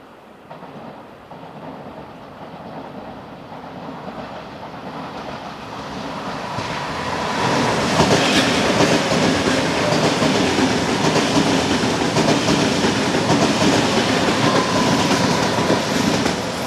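An ETR 610 passenger train approaches and rushes past close by at Iselle di Trasquera station before the Simplon Tunnel, a rising roar that settles into a loud, steady rumble of rolling wheels and wind.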